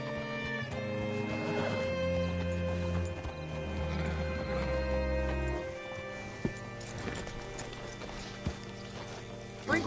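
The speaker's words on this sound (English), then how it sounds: "Hitch your horse up here." A horse in an old western setting clip-clops to a halt on hard ground, heavy hoofbeats and harness rattling over low music, followed by a few scattered knocks and stamps as it stands.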